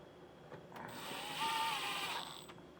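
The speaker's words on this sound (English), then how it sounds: "Now all we have to do is reinstall our two torque screws underneath of our fascia." Under the front fascia of a 2023 Chevrolet, a tool drives in a torque screw while a hitch is installed: one brief, moderately close mechanical whirring run, with faint clicks before and after and no talk.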